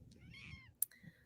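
A sleepy kitten making small mewing noises, a faint rising meow followed by a short click and another soft high chirp, quiet and close.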